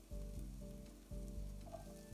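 Potatoes and chopped brisket frying in a pan for breakfast burritos, a faint steady sizzle with a low hum under it and two brief dips where something is stirred or shifted, no voices.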